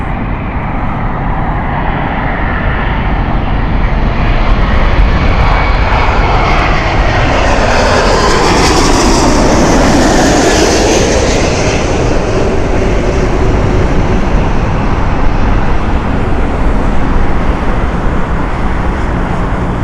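A passenger jet on landing approach at Heathrow Airport, a loud continuous roar that swells and sweeps in pitch as the aircraft passes close overhead, then slowly fades.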